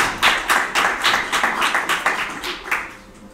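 Audience applause at a community project event, a short burst of many hands clapping in rhythmic waves, fairly close and fading toward the end.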